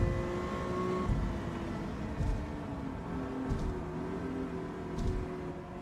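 A race car engine in Gran Turismo 7 holds a steady, moderately loud whirring drone with brief surges every second or so, and no talking over it.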